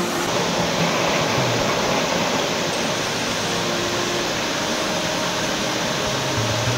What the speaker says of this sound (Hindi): यहाँ पे बहुत तेज आ रही है पानी की आवाज़।